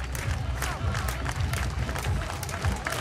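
Spectators at the UCI Trials World Cup super final in Aalter cheer on a trials rider, a steady wash of crowd noise with scattered clapping and shouts, heard at moderate distance.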